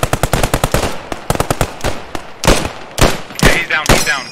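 Rapid machine gun bursts from a World War 2 squad battle in the game Post Scriptum, loud and close, firing in several quick rattling strings with short pauses between them.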